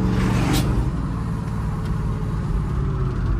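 A 1974 Chevy Nova with a shift kit and aftermarket gauges revs and pulls hard under acceleration, its engine note a steady, loud, close rumble inside the cabin with one quick, firm gear change.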